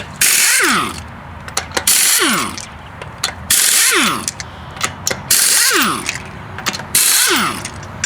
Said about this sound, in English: Using a 21mm socket, I'm going to remove the wheel and tires, as well as the lug nuts.